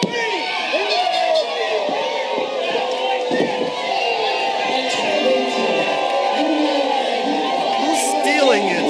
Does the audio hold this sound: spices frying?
no